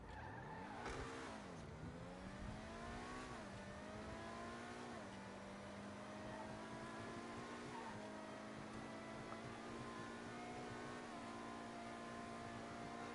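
Cars drag racing in GTA, an engine revving up and shifting through gears with rising and dropping whine, then holding a steady high drone at low volume for a long stretch.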